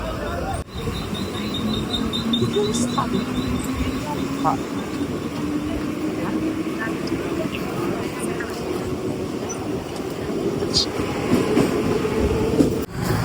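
A crowded Mumbai local train in motion near Ghatkopar, with a steady loud rumble and clatter of the carriage throughout, a rising whine from the motors, and passengers' voices murmuring underneath.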